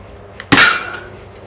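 A homemade airsoft BB gun built from a cheap toy Nerf gun fires once, a sharp loud crack followed by a short metallic ring as the pellet strikes a can.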